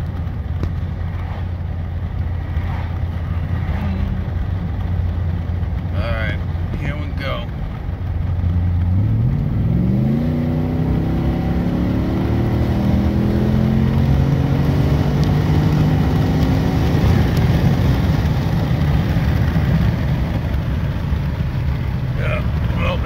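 Heard from close inside, a racing car with its transmission tuned to new shift points drones loudly at steady speed, drops a gear through a corner, then climbs in pitch as it accelerates hard.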